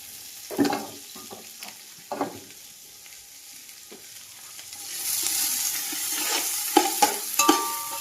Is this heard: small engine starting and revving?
no